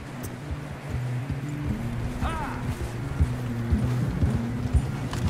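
A horse galloping in Red Dead Redemption 2 through snow, with a steady rhythmic run of low hoofbeats under a rushing ambient bed, heard close throughout, while someone talks over it.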